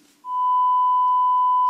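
A steady 1000 hertz test tone played through a C-Audio RA3001 power amplifier comes in sharply after a brief pause and holds at constant loudness, a pure continuous beep.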